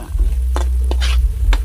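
Garlic and ginger sautéing in a pan, a steady close sizzle under a few scraping strokes of a spatula stirring the pan.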